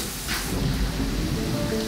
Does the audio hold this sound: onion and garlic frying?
no